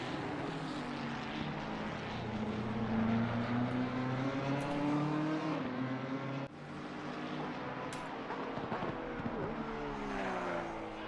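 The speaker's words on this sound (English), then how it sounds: "Those Porsches do sound nice when in a little choir going there." Porsche GT3 race cars in a racing sim championship drone together as a pack, engines rising and falling in pitch over a continuous roar, moderately loud and blended, with no talk.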